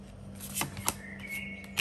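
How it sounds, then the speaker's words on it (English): Soft riffling and shuffling of tarot cards in a few quick bursts, quiet and close, with a low steady hum underneath. "Takes longer for me to shuffle for this part"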